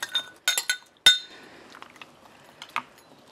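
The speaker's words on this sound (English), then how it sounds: "let's add the frozen bananas and strawberries." Frozen bananas and strawberries dropped into a glass bowl give bright, close clinks and knocks, a quick cluster of hard taps followed by fainter scattered rattles and a final clink.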